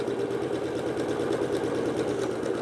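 Sewing machine stitching a vintage 8-inch log cabin quilt block, a loud, steady rapid mechanical whir running without pause throughout.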